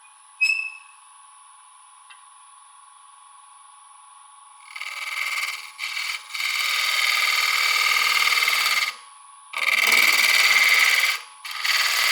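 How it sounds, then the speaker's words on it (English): A 1/2 inch bowl gouge cuts into a big, gnarly triple-crotch maple log spinning on a lathe. A steady high whine runs throughout, then loud rushing cuts come in two long passes with a short break between them. "Carter & Sons 1/2 inch bowl gouge."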